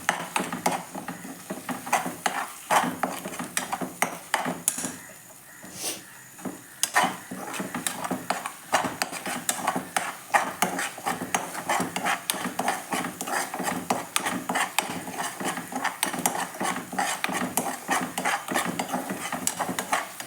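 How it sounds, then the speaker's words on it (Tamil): Tomato-onion paste for paneer butter masala, already sautéed, is stirred in a pan with rapid, continuous scraping and clinking over a light sizzle. Loud and close, with one brief lull early on and no talk. "வெங்காய பேஸ்ட்டை இதெல்லாம் போ போடணும் போட்டு நல்லா கொஞ்சம் கிளறி விடணும்"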